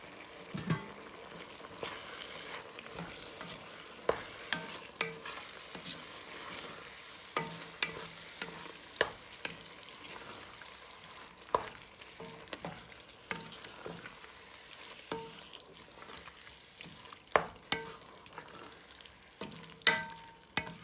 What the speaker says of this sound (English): And we'll give that a good mix.